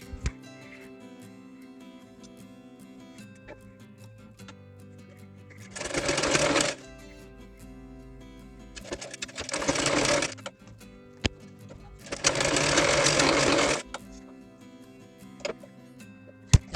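A sewing machine stitches the shoulder seams of a small girl's top in three steady whirring runs of a few seconds each, separated by quiet pauses with light ticking clicks.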